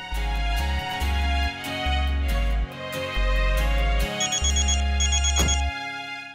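A telephone ringtone plays during a call, a loud melodic electronic tune of sustained notes repeated in phrases, with no voices over it.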